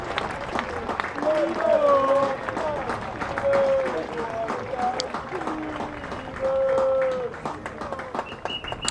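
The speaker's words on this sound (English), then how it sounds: "Let you hear the applause, which is as warm from the Leicestershire faithful as it is from the Kent faithful." Crowd applause at a Leicestershire v Kent Royal London Cup quarter-final as a batsman walks out, sustained scattered clapping from the stands with voices and calls mixed in throughout.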